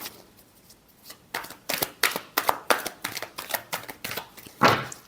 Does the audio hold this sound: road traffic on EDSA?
no